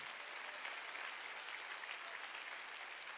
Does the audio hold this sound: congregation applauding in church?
yes